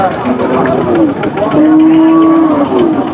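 A cow lets out a long low moo, then another, amid a noisy crowd of people talking nearby at a cattle market in Chougachha.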